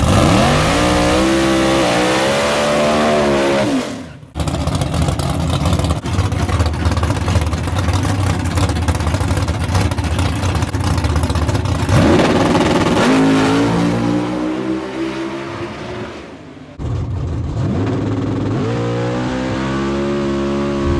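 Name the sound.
Ford Mustang drag racing pass at Bradenton Motorsports Park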